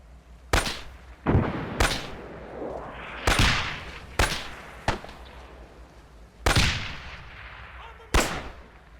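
Heavy gunshots and tank cannon blasts ring out in an Arma 3 Pacific beach landing battle, about eight sharp loud reports spaced irregularly, each trailing off in a long rumbling echo.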